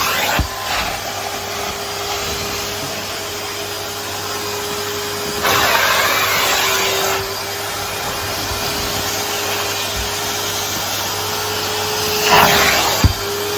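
A 2024 Numatic George vacuum cleaner fitted with a spot-clean sprayer attachment works over a rug, its steady motor hum broken by brief surges of harsher suction and a few knocks, with no talking.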